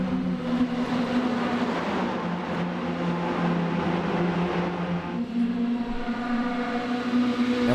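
NASCAR race cars in the iRacing video game at Talladega, engines held at full throttle in a pack, a steady loud droning roar with a shifting pitch that continues throughout with no voices over it.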